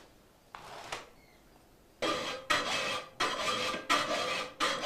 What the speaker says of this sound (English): First, he does a rough filing.